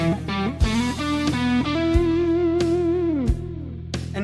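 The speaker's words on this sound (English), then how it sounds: "let the delay and reverb fill in the gaps in a cool little way" Electric guitar solo with delay and reverb, sustained bent notes and short phrases ringing into echoing tails, loud and close with no voices.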